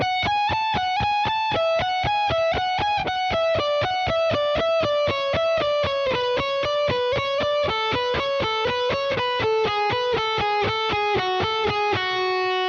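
Distorted electric guitar played on a single string, a steady stream of evenly picked notes stepping gradually downward in pitch, loud and sustained with no talking.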